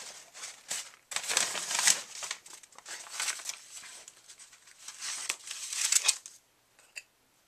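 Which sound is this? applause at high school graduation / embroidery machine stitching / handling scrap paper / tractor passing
handling scrap paper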